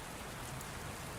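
Steady rain falling, a dense even hiss of drops on surfaces with no gaps or other sounds.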